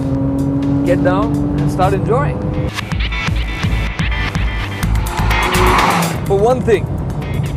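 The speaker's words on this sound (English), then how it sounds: "The engine sound is just so apparent in the cabin" A 400 bhp Porsche 911 engine rumbles inside the cabin while driving, with rising and falling revs and tire noise under someone talking throughout.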